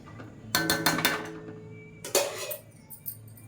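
A metal lid clanks onto a pot of boiling kuzhambu (curry), two clattering bursts of metallic contact close by, with a lingering ring between them.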